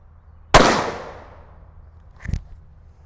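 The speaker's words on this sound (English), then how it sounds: "So let's get a nice shot group there and kind of see how she groups." Two sharp rifle shots from a Ruger American Ranch fired at a target: one loud crack with a trailing echo, then a quieter second report about two seconds later, with no talking.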